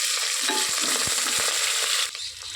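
Dried red chilies, green chilies and curry leaves crackle and sizzle in hot oil, a dense steady frying hiss with a few soft stirring knocks, easing slightly toward the end.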